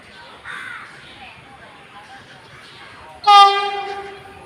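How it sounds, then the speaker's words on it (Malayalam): A Vande Bharat express on the Thiruvananthapuram–Kasaragod route pulls into a station platform, its loud sustained horn blaring near the end over faint platform ambience and crows. "കടന്ന് വരുന്നുണ്ട് വണ്ടി."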